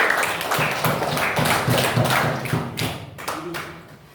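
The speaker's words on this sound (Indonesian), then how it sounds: "tepuk tangan untuk kelompok 1" A classroom group gets a round of applause as its two representatives come forward, with uneven clapping mixed with thumps, taps and a murmur of voices, thinning out near the end.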